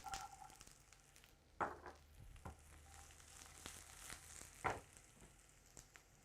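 Carrots frying in a pan for Polish bigos give a steady, soft sizzle, broken by a few louder stirring scrapes and clatters near the start and again later in the clip.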